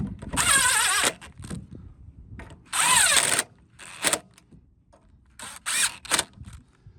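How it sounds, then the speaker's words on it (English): Impact driver used during a Craftsman lawn mower tune-up, firing in several short bursts, two longer whirring runs and quick trigger blips, close and loud with quiet gaps between. "I've been using this impact for years."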